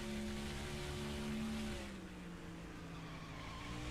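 A race car in NASCAR Thunder 2004 roars steadily with a high engine drone and shifting pitch, the game audio loud and continuous, with no voices over it.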